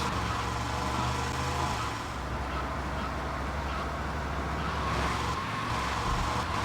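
A car drives in the video game GTA Vice City, giving a steady, dense engine and road roar that holds throughout without pause, loud and close.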